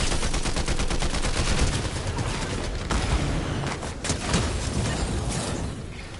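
Rapid automatic gunfire from a weapon in Fortnite, a loud, fast burst of shots at the start that thins into scattered, irregular shots and clattering impacts, close and with no talk.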